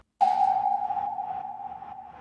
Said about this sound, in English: I call this one sonar.